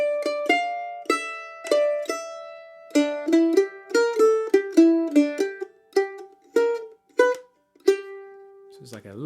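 A mandolin plays the closing phrase of a bluegrass tune, crisp picked notes in a lively run that slows into a few spaced plucks and a final held note, close and solo.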